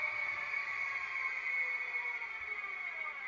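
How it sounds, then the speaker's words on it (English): A Roco E193 Vectron model locomotive's brakes let out a thin, high-pitched squeal that holds steady for a few seconds. "Nice brake squeal, nice brake squeal."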